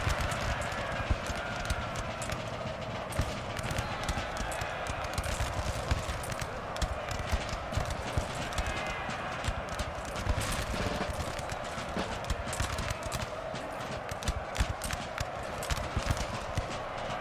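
Cavalry charging in Napoleon: Total War, a dense continuous rumble of many galloping hooves clattering together at steady loudness throughout, with faint battle noise and no talk over it.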